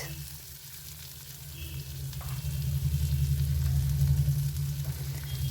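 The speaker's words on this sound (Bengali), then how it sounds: "এবার পেঁয়াজটা নরম হওয়া অবধি ভেজে নেব" Chopped onion frying in oil after cumin, fennel, fenugreek and bay leaf were tempered, a steady close sizzle that swells louder midway and holds, with no talking.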